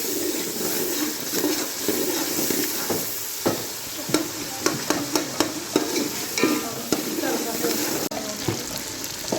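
Steady oil sizzle of a tempering with chilies in a pan for mustard greens saag, broken by repeated clinks and scrapes of a spoon stirring, with faint background noise throughout.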